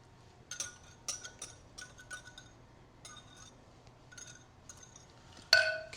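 A whisk stirs cornstarch mixture in a bowl for lemon meringue pie filling, giving quick irregular clinks and taps against the bowl in short bursts, ending in a louder scrape.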